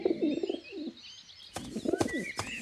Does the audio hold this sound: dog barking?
no